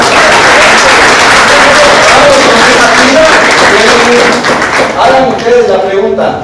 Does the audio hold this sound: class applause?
yes